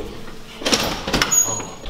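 A sliding door glides open inside a university football facility, giving a broad whooshing swell of moderate loudness over a couple of seconds with a thin high whine near the end, against faint room noise.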